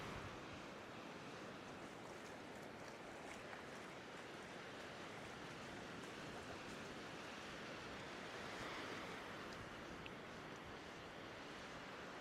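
Ocean surf at high tide gives a steady, broad wash of noise that rolls on without pause, with no voices and a faint whiff of wind over the water.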